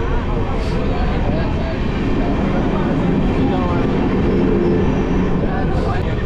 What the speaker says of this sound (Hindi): अपनी ट्रेन जी अमृतसर तो आई है